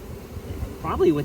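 A swarm of honey bees hums in a low, steady drone near a barn, with a brief voice-like sound rising over the buzzing toward the end.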